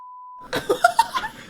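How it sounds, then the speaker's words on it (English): A steady electronic censor tone sounds alone for about half a second before voices break in with laughter-like bursts and chatter, in a casual podcast conversation. "I'm gonna have to beep it."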